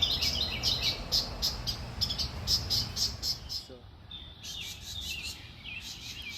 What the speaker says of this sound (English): The bird is right over here, making all that noise.